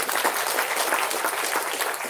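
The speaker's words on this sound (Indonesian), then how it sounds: "Tepuk tangan dulu." An audience at the inauguration of an Islamic institute claps in a dense, steady burst of applause, moderately loud and continuous.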